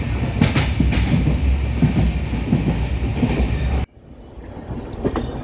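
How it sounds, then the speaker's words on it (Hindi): Indian Railways passenger train climbing the steep single-line ghat section between Mangalore and Hassan, a loud steady rumble of wheels and carriage noise up close that drops abruptly to a quieter rattling interior near the end. "हमारी ट्रेन 183 किलोमीटर के डिस्टेंस में अप्रॉक्स 1 किलोमीटर का डिस्टेंस क्लाइंब करेगी।"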